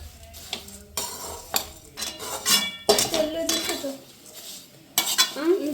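Poha being heated with curry leaves in a pan is stirred with a metal spoon, producing irregular scraping clinks and knocks against the pan in close, uneven bursts, with no speech.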